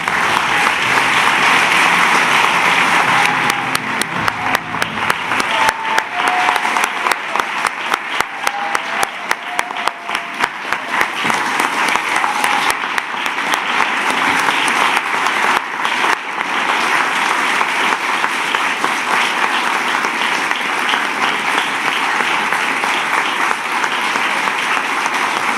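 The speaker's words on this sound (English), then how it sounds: "Please join me in a round of applause for all of our awardees." An audience at an International Women of Courage award ceremony applauds the awardees. The clapping is loud, dense and sustained and fills a long stretch without pause.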